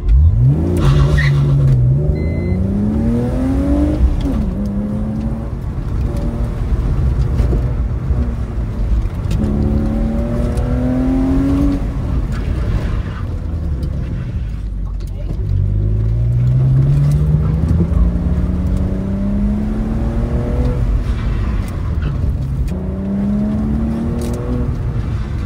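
Car engine at an autocross run, loud and close throughout, repeatedly revving up through gears with rising pitch sweeps, brief lifts between corners and steady hard acceleration, no talking.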